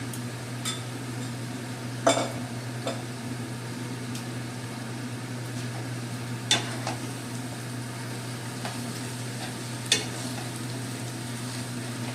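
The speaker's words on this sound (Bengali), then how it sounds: "এবার 3-4 মিনিট আমি আলুর সাথে মশলাটা ভালো করে মিশিয়ে নেব।" Boiled potatoes are stirred with spices in a pan, with a low steady hum under a soft background sizzle and a few isolated spoon knocks against the pan, without any talking.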